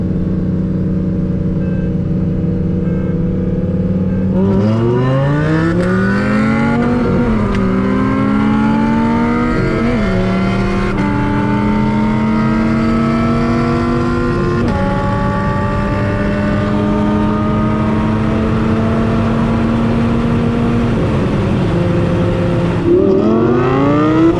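An 8-liter V10 Dodge Viper with a big lumpy cam accelerates hard in a drag race, its loud engine note climbing through several gear changes with brief dips between shifts, sustained and close throughout.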